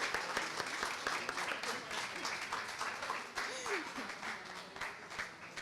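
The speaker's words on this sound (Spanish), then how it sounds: "Un aplauso, por favor." At the closing of a research week at Universidad Internacional, an audience breaks into sustained applause, a thick, even patter of many hands with some voices rising faintly above it.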